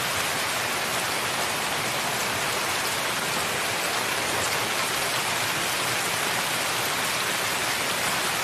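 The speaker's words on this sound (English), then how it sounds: "I hear the rain right now." Steady, dense rain hiss fills the whole stretch evenly, loud and close, with no talking.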